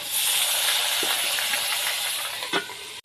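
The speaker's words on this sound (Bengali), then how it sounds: "তেল গরম হয়ে গেছে, দিয়ে দিম পেঁয়াজ কুচি, দিয়ে দিম জিরা হয়ে গেছে, দিয়ে দিম মাছ" Fish, chopped onion and cumin sizzle in hot oil with a steady, close hiss, broken by a few soft clicks and pops near the end.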